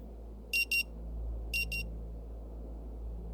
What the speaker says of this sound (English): The frenetic sound coming from a century-old clock nudges you back to the present.